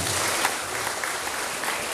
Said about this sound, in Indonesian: Tepuk tangan buat Farah.